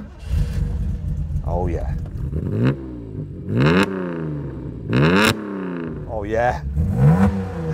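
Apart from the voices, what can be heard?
Toyota 2000 GT Yamaha-tuned straight-six engine revving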